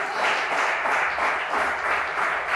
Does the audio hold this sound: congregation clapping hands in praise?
yes